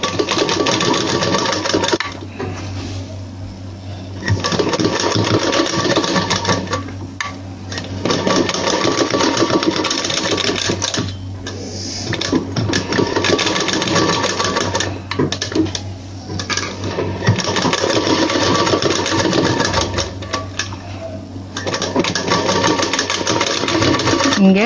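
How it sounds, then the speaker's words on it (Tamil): A sewing machine stitches a blouse in steady rapid runs, its motor whirring in loud bursts separated by short pauses, with a voice talking quietly underneath. "கரெக்டாக இங்கே தான் நம்ம தைக்க போகிறோம்"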